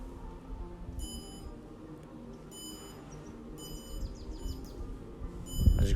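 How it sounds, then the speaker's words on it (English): A buzzer on an Arduino, triggered by a push button, sounds Morse code as a series of bright, shrill electronic beeps of varying length. The beeps are separated by short pauses over a low, steady room hum. "once you press the push button, you should now see that the LED is going to flash and the buzzer is going to make a sound"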